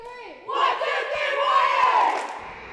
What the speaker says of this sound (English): Take us out with a cheer.